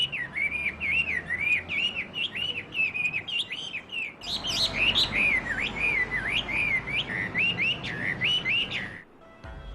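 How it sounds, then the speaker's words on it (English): A caged songbird kept by a bird keeper in a Chinese city sings a loud, close trilling song in repeated warbling phrases, with faint background birds and street ambience and no voices. "you can barely hear the other birds above his trilling song"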